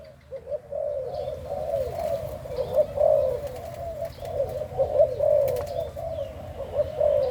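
Steady, repeated dove cooing close by, a low rhythmic warble continuing throughout with faint background noise.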